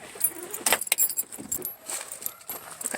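A set of truck keys jangling and clinking in bursts of bright metallic rattles, close by, with faint background noise between the shakes and no talk.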